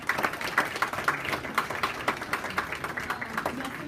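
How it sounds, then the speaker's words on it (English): Audience at a school board meeting gives a round of applause, a steady patter of many clapping hands filling the room at moderate level, with a little talk mixed underneath. "I think that deserves maybe a round of applause."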